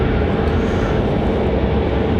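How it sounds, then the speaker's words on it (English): A United airliner departs Raleigh-Durham airport, its engines a loud, steady, broadband roar with deep low rumble and no voices over it. "United 2163 off to Washington, D.C. That one departing over on the backside over there behind us."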